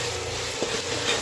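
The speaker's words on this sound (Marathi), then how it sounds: "आता हे वाटण पण छान परतून घ्यायचंय." Ground peanut masala paste sautéing in a pan gives a steady soft sizzle and faint stirring scrapes, close and even throughout the short moment.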